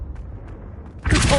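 Confringo blasting spell going off in Hogwarts Legacy, a quiet rumbling lead-in followed by a sudden loud, bright burst of explosion and crackle in the final half second.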